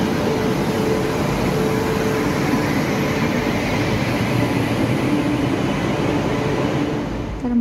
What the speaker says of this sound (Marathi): आता ट्रेन आलेली आहे, बघा ट्रेन आलेली आहे